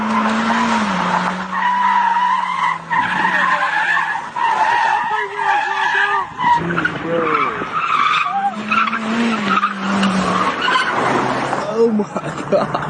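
A stolen Kia car skids with sustained tire squeal in long sweeping tones, loud and close, as the engine roars through repeated swerves and voices talk over it.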